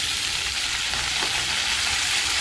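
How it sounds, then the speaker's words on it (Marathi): Fenugreek leaves go into a wok after cumin, garlic and green chillies, and a loud, dense, steady sizzle and hiss of hot oil follows with no talking. "जिरे, लसूण, हिरवी मिरची परतल्यानंतर आता आपण यामध्ये भाजी टाकत आहोत."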